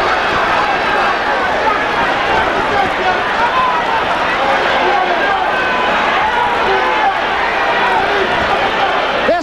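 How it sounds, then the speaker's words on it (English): A boxing arena crowd in a packed hall keeps up a dense, constant roar of cheering and shouting, loud and unbroken throughout, with a commentator's voice woven into the noise. "this crowd is a din"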